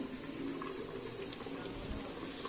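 A pressure cooker is opened over beef liver being cooked and fried. Soft, steady bubbling and hissing sounds continue throughout, faint and close, with no talk.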